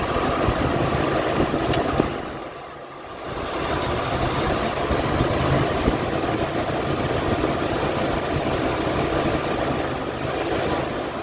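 A 1978 Mercury Marquis Brougham engine idles roughly, a steady, continuous mechanical rumble that dips briefly before settling back into an even drone.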